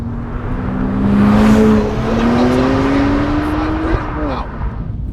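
A modified BMW 135i on stock turbos accelerates hard, its engine note climbing steadily in pitch as boost builds, then dropping at a shift near the end, with a broad road and wind roar throughout.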